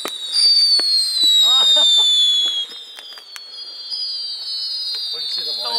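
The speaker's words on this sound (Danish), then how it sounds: "Romerlys, der fyrer helvede sted til højre." Roman candle fireworks fire off to the right in a series of whistling bursts with sharp pops and crackles, loud and fairly close, while people talk excitedly over them.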